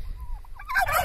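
Domestic turkeys gobble in a backyard poultry yard, a loud rapid burbling burst rising near the end of the clip after a quieter stretch of low background noise.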